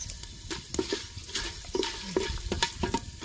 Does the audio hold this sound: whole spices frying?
yes